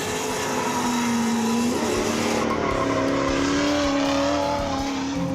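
Nissan sports car, one of a 240SX, 370Z or 350Z, accelerating hard on a track, its engine note climbing steadily and loud throughout, with a brief tire squeal partway through; no talk.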